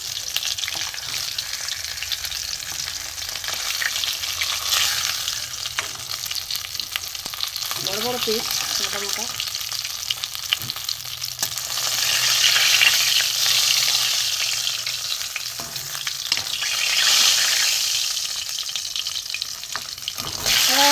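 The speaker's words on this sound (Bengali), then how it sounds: "4 পিস মাছ কড়া করে একটু ভেজে নেবো" Pieces of pangas and tangra fish fry hard in hot oil in a home kitchen, with a steady loud sizzle and occasional stirring scrapes. A voice speaks briefly.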